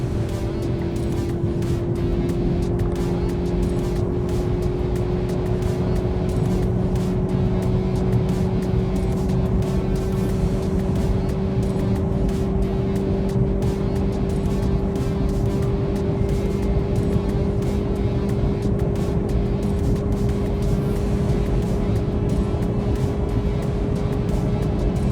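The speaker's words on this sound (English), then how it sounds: "we have a straight coming up. We'll do a top speed run for you." A Volkswagen Golf GTI accelerates flat out down a straight on a top speed run, its engine holding a loud, steady drone that climbs slowly in pitch for the whole stretch, with no voices over it.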